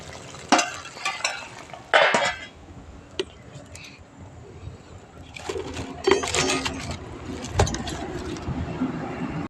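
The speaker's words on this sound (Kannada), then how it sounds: "ಸ್ವಲ್ಪ ಒಗ್ಗರಣೆಲೆ ಎಲ್ಲ ಚೆನ್ನಾಗಿ ನೀಟಾಗಿ ಫ್ರೈ ಆಗಬೇಕು" Avarekalu beans and their seasoning fry in a pan for a village-style chicken gojju, with bursts of crackling and scraping stirs over a busy background of clinks and faint outdoor noise.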